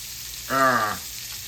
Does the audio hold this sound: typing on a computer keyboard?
no